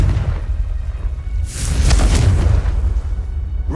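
A Confringo fire spell in Hogwarts Legacy bursts into a broad booming blast about midway, sitting over a steady low rumble of game background that continues before and after.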